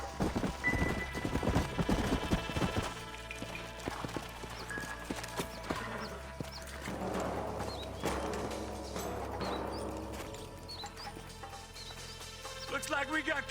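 Horses' hooves clip-clopping in the Western video game Red Dead Redemption, rhythmic trotting over a game music score with a whinny and ambient effects, fairly close and steady throughout.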